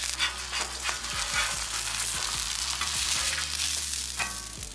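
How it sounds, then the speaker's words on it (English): Ground beef burgers sizzle loudly in a hot pan as they are flipped, a steady crackling fry with scraping taps of the spatula against the pan. "we're going to flip our burgers"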